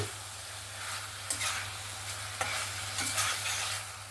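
Fried tangra fish stirred into cooked spice masala in a pan, a steady sizzle throughout with a few scraping strokes of the spatula standing out, close and moderately loud.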